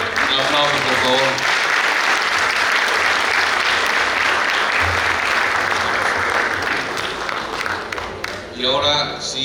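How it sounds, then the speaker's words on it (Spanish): Sustained audience applause at a plenary session of a conference, dense and loud clapping that fills the whole stretch and fades slightly near the end. "Un aplauso, por favor."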